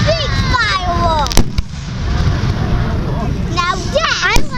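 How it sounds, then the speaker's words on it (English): A Fourth of July fireworks show in Newtown in 2013 sounds as a few distant booming bursts, mostly under nearby excited voices of spectators talking and shouting. "We crave big fireworks."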